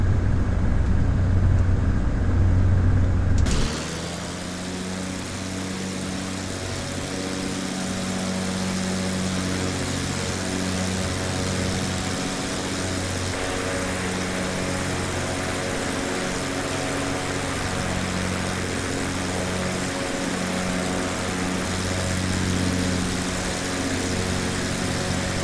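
A small plane's engine drones steadily and loudly from inside the cabin as it climbs on autopilot toward 10,000 feet over mountain ridges, a constant tonal hum with no speech.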